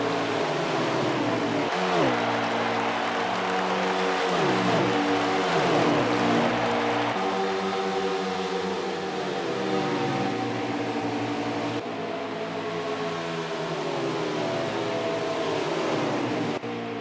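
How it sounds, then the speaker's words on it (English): Race car tires swirling and whining in a virtual racing championship game at Atlanta, a loud continuous engine-and-tire roar with sweeping pitch changes as cars pass, steady throughout. "you hear the swirling of the tires"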